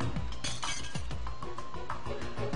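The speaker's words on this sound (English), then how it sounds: "I heard something shatter and something dripping down my leg. I reached into my pocket to find that the vial of holy water has been shattered." Glass shatters in the Corpse Party horror video game as a small vial of holy water breaks, giving several sharp crashes followed by scattered tinkling fragments over a quiet background.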